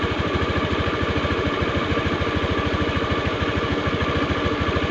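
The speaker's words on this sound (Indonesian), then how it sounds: "Nah ini kan suara mesin besar mas bro" Honda Beat FI scooter engine idling close by with a rough, uneven idle, a steady rapid low putter throbbing on its own without any talk.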